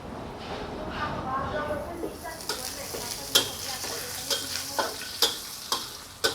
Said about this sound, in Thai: หั่นกระเทียมเสร็จก็ใส่กระทะได้เลยนะคะ